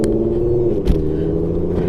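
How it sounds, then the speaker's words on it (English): An S550 Ford Mustang with an Auto Mafia Racing ghost cam tune sits stopped at idle, giving a deep, close, rumbling exhaust with an uneven chop and one sharper lope partway through. "You hear that chop? Oh, that chop sounds so amazing."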